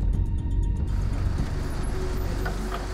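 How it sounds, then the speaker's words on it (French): A car drives up on a roadway, its engine a steady close rumble throughout with some broadband road noise and no talk. "Son ami arrive en voiture."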